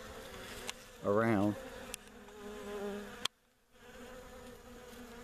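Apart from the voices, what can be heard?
honeybees buzzing around a brood box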